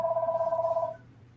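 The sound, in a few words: telephone ringing in the background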